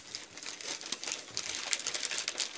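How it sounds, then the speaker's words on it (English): Christmas wrapping paper crinkles and rustles as presents are unwrapped, a continuous close series of crisp crackles and tearing bursts at low volume. "But I'm enjoying unwrapping the presents like this."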